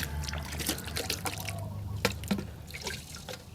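Water is poured into a basin after being changed in a pot used for sprouting lotus seeds, making a close, continuous splashing trickle with a few louder spills.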